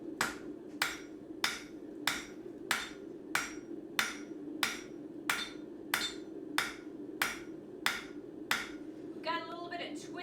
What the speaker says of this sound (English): start hammering the second corner, or the opposite corner.